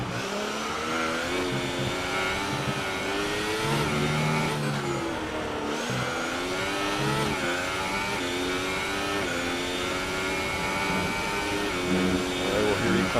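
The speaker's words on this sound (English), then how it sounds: "listen to the sweet hum of the Ferrari engine as he now comes into the third sector" A Ferrari Formula 1 engine in a racing video game screams at high revs around Abu Dhabi, pitch rising and dipping through gear changes, with a voice talking over the steady roar.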